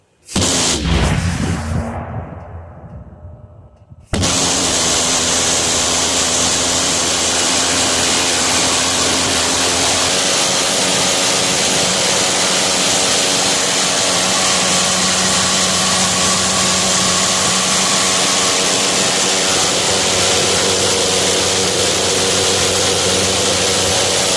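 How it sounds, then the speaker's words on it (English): A homemade pulsejet engine fires up: a brief ignition sputter, a moment of near silence, then a loud, steady, roaring buzz that runs unbroken for some twenty seconds. "an awesome homemade jet engine."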